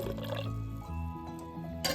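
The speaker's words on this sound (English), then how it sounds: "Just filling up my jars." Beef bone broth filled into glass canning jars at home, a steady liquid pouring and gurgling sound with a faint splash at the end, heard up close with no talking.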